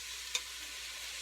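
A pound of hamburger meat browning in a smoky pan gives a steady broadband sizzle, with one brief scrape of stirring partway through.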